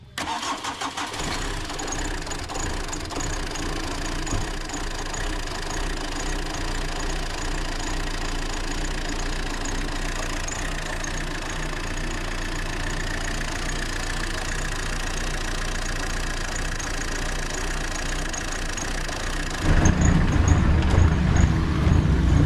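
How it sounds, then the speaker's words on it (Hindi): A Tata Vista diesel car engine misfires, idling roughly and unevenly for a long stretch with a knocking, stumbling beat, then grows louder and rougher near the end. "आप लोगों ने देख लिया कैसे गाड़ी मिसिंग कर रही है"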